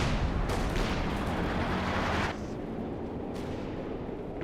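A light AT mine detonates in the Company of Heroes 2 strategy game, a dense, loud explosive roar for about two seconds that drops sharply into a steady lower rumble of ongoing battle.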